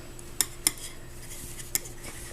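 Metal knitting needles click sharply three times while stitches are slipped from the heel onto a needle during ankle sock knitting, quiet and close, with a faint steady hum behind.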